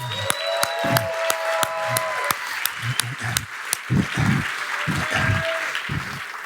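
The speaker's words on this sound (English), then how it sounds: "Let's give him a huge round of applause." An audience at a business conference applauds after a guest is introduced, a broad wash of clapping with scattered sharper individual claps, fairly near, lasting throughout, and a voice also heard at times.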